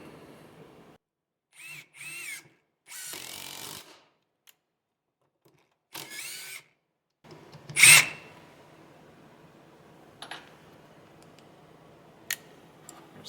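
A Metabo HPT 18V triple hammer impact driver running in bolt mode gives one loud, short burst of hammering near the middle, with only quiet handling clicks and ticks before and after it.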